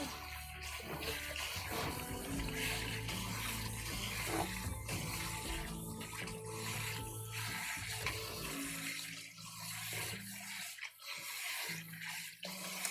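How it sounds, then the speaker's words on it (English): A kitchen tap runs steadily as cooked udon noodles are rinsed under the stream, a close, full rushing splash that shifts and sputters toward the end. "rinsing it with water"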